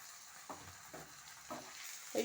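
Ginger and cumin paste fry in a pan with garlic and green chilli, giving a faint background sizzle that is broken by several soft stirring scrapes at a regular pace.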